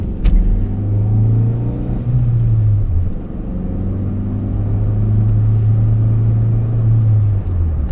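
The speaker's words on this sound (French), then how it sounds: "Et là je vais pouvoir accélérer." A Ferrari's engine pulls hard under acceleration, a loud close low drone that climbs, drops briefly as if shifting gear, then rises again and holds steady, heard alone without talk.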